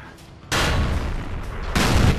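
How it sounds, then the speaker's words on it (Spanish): Tank cannon shots in the video game World of Tanks, an American T25 AT tank destroyer match: two loud, sharp booms about a second apart, each with a long noisy decay over faint background. "ese disparo está mal apuntado"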